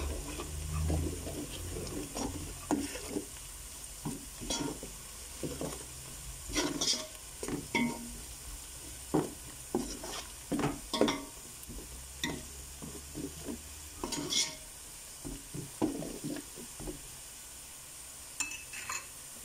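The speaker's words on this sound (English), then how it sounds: "Give it a stir." Onions with curry powder, cumin and turmeric fry in a pan while a utensil stirs in uneven bursts of scraping and clacks over a quiet sizzle, close and intermittent, without speech.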